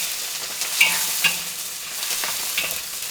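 Scallion whites, ginger and garlic are stir-fried in hot oil for a chicken dish, an even sizzle punctuated by a few sharp spatula scrapes and clinks, close up and without speech.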